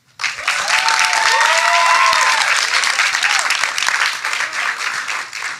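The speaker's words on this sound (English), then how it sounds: "please give yourselves a beautiful round of applause and thank you for coming" Audience applause at an honours symposium, a dense burst of clapping that rises quickly and holds steady, fading slightly toward the end, with faint voices and a few cheers mixed in.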